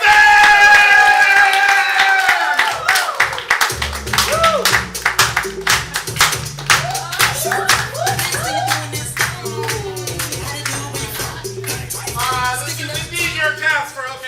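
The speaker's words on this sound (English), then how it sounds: "Get your hands clapping. Make some noise for OKC Improv" Audience applause and cheering for an improv comedy show: a crowd claps and whoops loudly at first, then the clapping carries on under music with a steady beat and voices talking.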